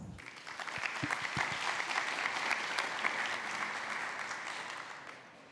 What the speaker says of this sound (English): Please join me in giving her a big applause.